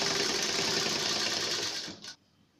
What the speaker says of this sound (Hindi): ऐसे फोल्ड करके इसमें हमें सिलाई लगा देंगे